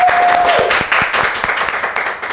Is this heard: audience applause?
yes